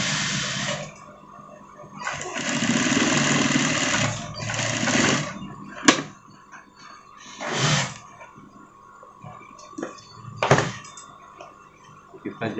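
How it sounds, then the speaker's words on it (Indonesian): A sewing machine stitches a pocket onto a sweater, with a steady mechanical whir in bursts that start and stop, along with occasional thunks from handling the fabric, close up and with no speech. "Lalu kita jahit lagi ya."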